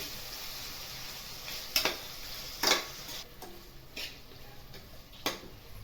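Chopped tomatoes being sautéed with onions in a pan for Nashik-style dal khichda, a soft steady sizzle with several sharp scraping stir clicks spaced irregularly, close and alone without talk.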